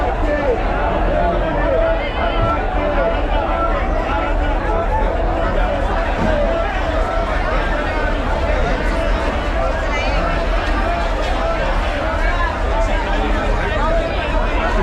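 Dense, steady crowd babble fills the morning Bhaucha Dhakka fish market in Mumbai: many overlapping voices at an even, loud level throughout, with no single voice standing out.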